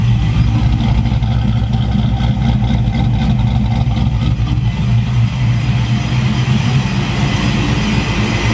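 A 2005 Chevrolet Trailblazer's supercharged engine runs steadily close by, warmed up, its exhaust giving a deep, continuous rumbling drone with a faint rhythmic ticking on top; no speech.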